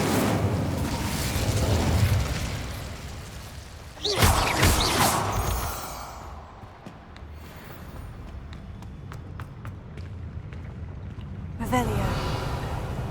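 Incendio fire spell cast in Hogwarts Legacy, a whooshing burst with crackling flare around midway, over dense game ambience and effects, with a later smaller burst.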